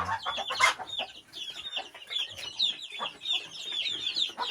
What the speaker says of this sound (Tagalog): Sisiw, ang iba nasa labas. Ito ngayon dami.